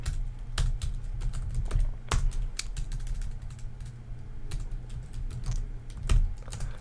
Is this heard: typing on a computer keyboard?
yes